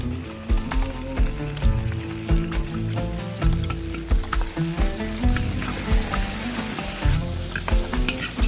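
Carrots with parsley, lemon zest, garlic and pepper frying in a pan, a loud continuous sizzle with repeated scraping stir strokes and clattering utensil knocks close up.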